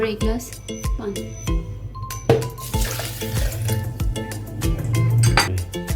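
Water from a glass pours into a blender jar holding strawberries, sugar, black salt and lemon juice, a close splashing trickle over several seconds while someone talks across it.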